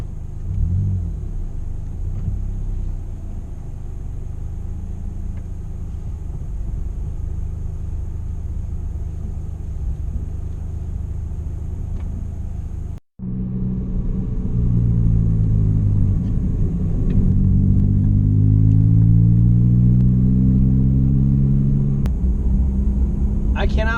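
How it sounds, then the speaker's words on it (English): A car fitted with a Scosche head-up display drives along a road: steady engine rumble and road noise throughout, with a brief dropout and then rising engine tones as it accelerates. "Let's take this thing for a spin."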